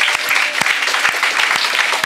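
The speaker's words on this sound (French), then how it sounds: "Somebody put your hand together for the Lord." A church congregation at a Saturday worship service claps together for the Lord, loud, close, rapid applause of many hands with sharp individual claps standing out, continuing steadily.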